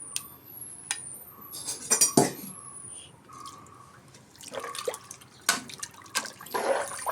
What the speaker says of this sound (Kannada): ಇದನ್ನು ಹಾಕ್ಕೊಂಡು ಒಮ್ಮೆ ಮಿಕ್ಸ್ ಮಾಡ್ಕೊಳ್ಳೋಣ